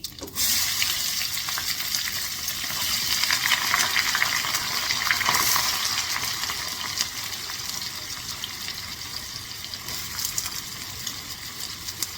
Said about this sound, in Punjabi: ਫਿਰ ਆਪਾਂ ਇਸ ਦੇ ਵਿੱਚ ਆਪਣੇ ਪਿਆਜ਼ ਪਾਵਾਂਗੇ